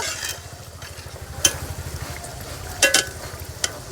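A vegetarian papad omelette fries in a pan while being stirred, giving a soft continuous sizzle with a rapid low rhythmic flutter and a few sharp clinks of the utensil against the pan.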